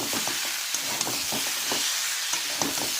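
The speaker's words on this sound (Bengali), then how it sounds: "এবার মটরশুঁটিগুলোও দিয়ে দিলাম আবারও নাড়বো" A spiced cauliflower and fish curry with peas is stirred in a hot pan, a steady sizzle under repeated soft scraping strokes of the spoon, close and clear with no voices.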